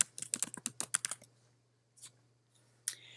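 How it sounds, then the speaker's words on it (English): Typing on a computer keyboard while entering text in a design program, with a quick close run of crisp key clicks over the first second, then a pause and a couple of isolated taps, quiet against a faint steady hum. "we're going to type in Syracuse along that path"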